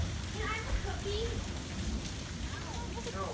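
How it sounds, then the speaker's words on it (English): Rain falls steadily during a monsoon storm, an even, dense hiss with faint thunder mixed in. Children and an adult talk over it. "Here comes the rain."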